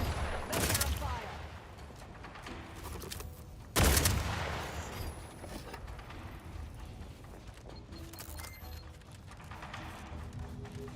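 Gunfire and mechanical weapon clatter in the video game The Outer Worlds 2, with two sharp loud bursts standing out over a dense, busy background of ratcheting game sounds.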